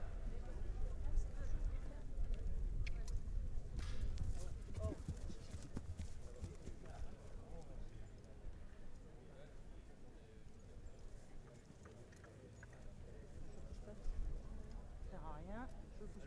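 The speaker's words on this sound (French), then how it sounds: "on va passer au trot désormais" A horse trots at an Anglo-Arab sale show, its hoofbeats a steady, fairly loud clip-clop over a busy background, while a voice talks over it throughout.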